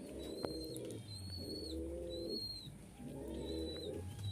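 Giribaj pigeons in a breeding setup coo in repeated rounded phrases, three clear bouts close by with short gaps, no talking.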